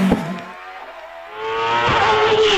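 The Predator, a small Scottish-built hillclimb race car once fitted with a Formula 1 engine, sits on the start line at Prescott; a sharp engine blip fades to near silence, then a loud, sustained high-pitched rev rises and holds.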